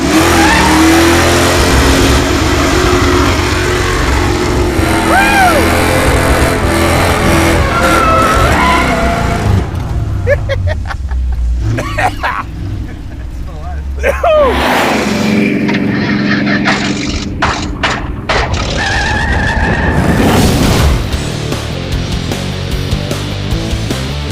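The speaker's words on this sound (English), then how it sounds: "Now burnouts." A 1969 Pontiac Firebird does burnouts, its engine revving hard and repeatedly as the tires squeal and skid, loud and close, with the screeching rising and falling in several surges over the full stretch.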